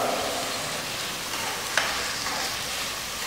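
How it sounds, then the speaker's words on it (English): Onions stirred as they fry in a pan for veg fried rice, a steady broadband sizzle with a faint scrape of stirring midway, close and continuous with no talk. "Like I am stirring like this you have to do stirring work."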